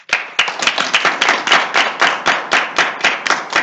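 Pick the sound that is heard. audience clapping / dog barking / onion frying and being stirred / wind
audience clapping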